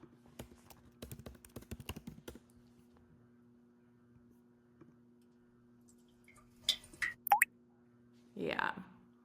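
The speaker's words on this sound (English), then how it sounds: "Let's see if there's like a water drop." A water drop sound effect: a few faint clicks early on, then a couple of bright plinks and a fuller drip near the end, under a steady low hum.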